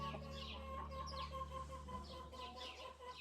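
Two hens and a rooster in a small coop cluck and chirp nearby, short overlapping calls over a steady low background hum.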